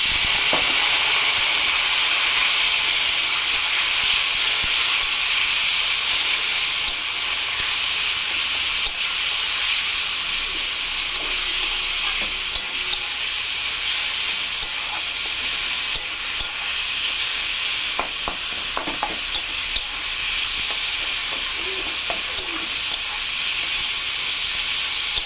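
Turmeric, cumin and other spices sizzle and fry steadily with a little water in a hot pan on low gas for a fish curry, a constant hiss with a few faint clinks and scrapes along the way.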